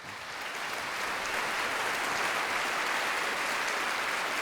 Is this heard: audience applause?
yes